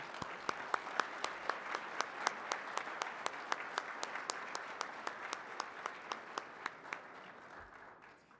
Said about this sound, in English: how about another round of applause for the governor?